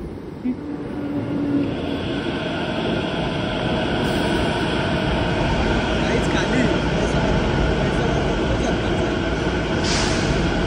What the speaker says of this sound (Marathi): इकडून बी ट्रेन आले आणि इकडून बी ट्रेन आले.